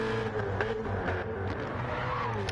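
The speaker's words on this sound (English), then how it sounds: "How good does that Z4 sound though?" BMW Z4 race car in a racing video game on the Bathurst circuit, its engine droning steadily and loudly at high revs throughout, with slight pitch shifts and no pauses.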